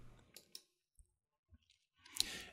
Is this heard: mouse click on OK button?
yes